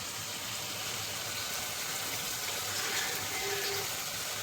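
Water draining from soaked, softened poha (flattened rice) for a Gujarati-style bataka poha, a steady close hiss and trickle of liquid running continuously, with no voices.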